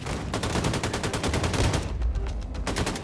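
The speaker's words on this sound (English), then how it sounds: "Turns out it's just a fucking turret" An enemy turret in the Wolfenstein II shooter fires in sustained rapid automatic bursts, loud and continuous, with a short stutter partway through.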